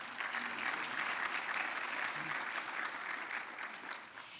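Audience at the Houston Stronger Conference clapping in a dense, sustained round of applause that stays steady and fairly loud before tapering slightly at the end.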